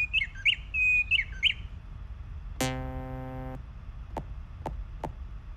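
A few bright, sharp bird chirps ring out, followed by a buzzing electronic tone and three short clicks, like a sampled birdcall in a synth demo.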